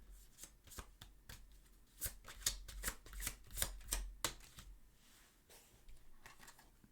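Tarot cards being shuffled close by in a rapid series of crisp riffling flicks and soft slaps. The sound builds to a busier middle and then thins out, with no talking.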